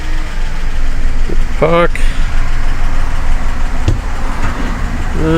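A Ford car with a BTR M74 four-speed automatic transmission idles steadily at close range, its low engine hum running continuously under brief speech.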